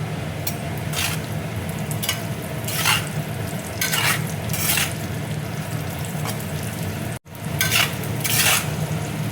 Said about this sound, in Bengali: কিশমিশও দেখো ভাজা হয়ে গেছে, এবার আমি তুলে নিচ্ছি।